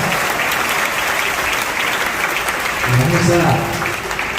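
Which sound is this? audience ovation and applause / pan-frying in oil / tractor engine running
audience ovation and applause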